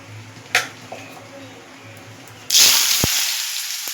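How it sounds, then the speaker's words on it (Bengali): Ash gourd pieces drop into hot oil and a loud sudden sizzle bursts up halfway through, hissing steadily to the end after a few quiet clinks before. "তেল গরম হয়ে গেছে, দিয়ে দিলাম চাল কুমড়াগুলো"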